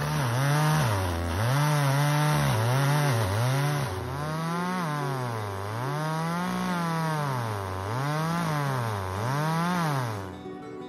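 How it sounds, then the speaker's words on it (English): A chainsaw bites into a big old oak, its engine rising and falling in steady, repeated surges under load as the bar cuts, loud and close throughout, then suddenly easing off at the end. "So even though daylight was fading, Jim got to work cutting down this big old oak tree."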